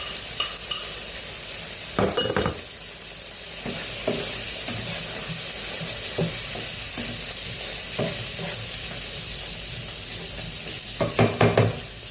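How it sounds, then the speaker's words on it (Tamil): Capsicum and greens stems sizzle steadily in a hot pan while a utensil scrapes and stirs now and then, close and continuous. "குடமிளகாய், கீரையோட தண்டு சேர்த்து வதக்கிப்போம்"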